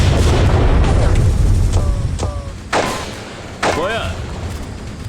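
Mortar crew firing in Graviteam Tactics, a Cold War battle in Africa in 1986: a few deep booms and sharp reports, one at mid-distance and another later, over a steady rumbling backdrop, with someone talking casually over the fire.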